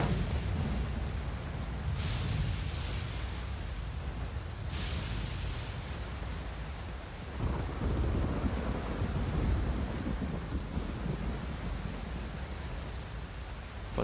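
Steady rain hisses throughout in Genshin Impact while low thunder rumbles roll in, with a couple of sharper cracks early and a deeper rumble midway.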